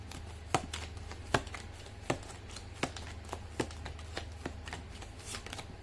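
Tarot cards shuffled by hand in a steady series of crisp riffles and snaps, roughly one every three-quarters of a second, close and clear over a low steady hum, with no talking.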